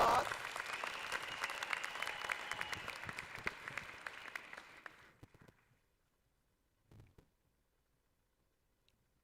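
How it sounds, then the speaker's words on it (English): Audience applause rings out in a hall at a memorial lecture, welcoming the vice chancellor and principal to the stage; dense clapping holds steady for about five seconds, then fades to near silence with a faint thump afterward. "Let's give him a round of applause."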